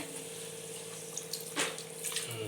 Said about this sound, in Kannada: ಚಿಕನ್ ಗೊಜ್ಜು ಸುರಿತಾ ಇದೆ ಎರಡು ಲೋಟದಷ್ಟು ನೀರು ಹಾಕ್ತಾ ಇದೆ